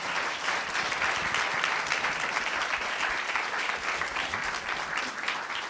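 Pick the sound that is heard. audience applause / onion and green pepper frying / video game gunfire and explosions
audience applause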